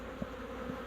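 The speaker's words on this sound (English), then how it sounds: "Man, there's a lot of bees here." Bees buzzing around a storm-felled tree, a steady low hum with a couple of individual bees droning close by, fairly quiet and alone.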